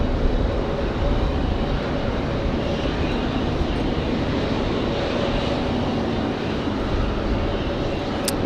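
A Boeing 777 taxiing at Raleigh-Durham airport gives a loud, steady jet engine roar and whine, constant and fairly near throughout.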